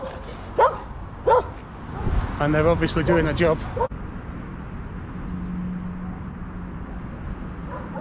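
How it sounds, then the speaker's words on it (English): Several dogs in the city of Dnipro, Ukraine, give two sharp barks and some yips and whimpers, followed by a person talking over a steady outdoor background. "Yep, there are definitely dogs in there."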